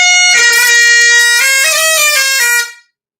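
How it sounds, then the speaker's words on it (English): A bagpipe's double-reed chanter played on its own, very loud and bright and close up, sounding a held reedy melody with a few quick note changes for about two and a half seconds before cutting off. "the second sound you hear comes out of this part of the bagpipe, which is called the chanter"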